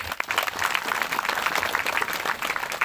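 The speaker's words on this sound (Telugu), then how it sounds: "ఇప్పుడు సంధ్యమ అమ్మవారికి చక్కని చప్పట్లు కొట్టండి అయ్యా." Crowd applause for Sandhyama Ammavaru at a devotional gathering, a dense steady wash of many hands clapping that fills the whole stretch at moderate loudness without pause.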